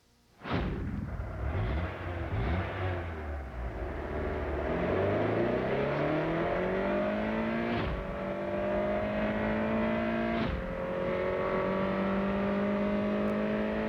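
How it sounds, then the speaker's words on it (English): A 190-horsepower Honda Prelude VTEC revs hard and accelerates through several gear changes, its engine note climbing steadily before each brief dip, loud and close with no speech over it. "Introducing the 190 horsepower Prelude VTEC. It's very quick"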